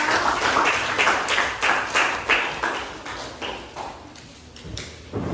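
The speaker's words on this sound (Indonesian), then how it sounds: "tepuk tangan untuk kelompok 2" A classroom full of students claps together for a group presentation, a steady patter of many hands that swells in bursts and gradually tapers off.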